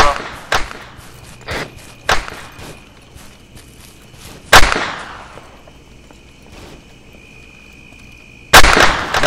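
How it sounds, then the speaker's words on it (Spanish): Several sharp gunshots ring out at irregular intervals in Arma 3, some loud and echoing, with a faint steady tone in the background between blasts. "Ey, disparo"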